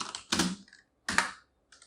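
Fast typing on a computer keyboard while a project name is entered, heard as two short, close bursts of clicking keys with a brief pause between them.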